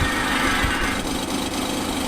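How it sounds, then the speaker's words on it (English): A lawn mower engine from a lawn-mowing video game drones continuously, a loud, buzzy, unbroken motor roar with no music or voices. "I'm really glad there's no music, otherwise I wouldn't be able to hear this sweet lawnmower noise."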